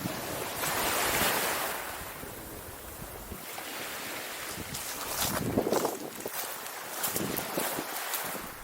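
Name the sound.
wind on the beach at Eastbourne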